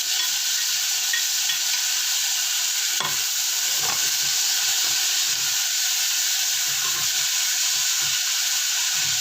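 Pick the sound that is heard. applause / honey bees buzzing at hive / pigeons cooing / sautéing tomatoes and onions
sautéing tomatoes and onions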